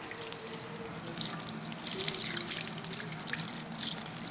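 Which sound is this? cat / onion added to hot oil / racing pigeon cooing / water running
water running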